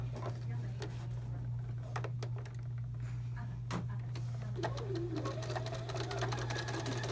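A Bernina sewing machine stitches a seam in a steady, close whirring run that continues for the whole stretch with a low constant hum beneath it.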